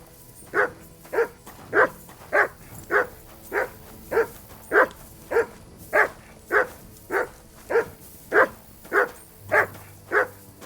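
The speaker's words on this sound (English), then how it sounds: "Do you hear those dogs?" Dogs in Kingdom Come: Deliverance 2 bark in a long, evenly spaced series of about eighteen sharp barks, steady and rhythmic, moderately close over a quiet background.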